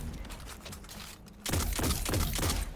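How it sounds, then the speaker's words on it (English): Rapid gunfire from a Destiny 2 firefight breaks out halfway through as a dense run of clattering shots, loud and steady, after a quieter stretch of game ambience. "Apparently I'm shooting between the stairs over there."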